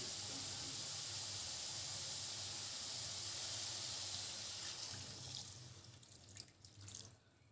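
Water streams steadily with a hissing gush, as if poured from a tap into a pan of tomatoes and chillies, then tapers into uneven splashes near the end.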